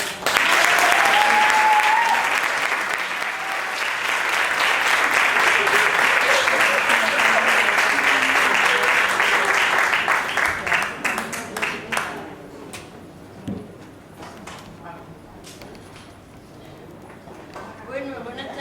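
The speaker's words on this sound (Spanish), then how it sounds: "Un aplauso para ellos." Audience applause at a cabaret show, a loud, dense burst with a short whistle near the start that thins out into scattered claps and fades to near quiet toward the end.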